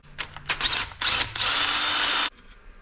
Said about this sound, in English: let me find a drill bit that'll slightly enlarge that hole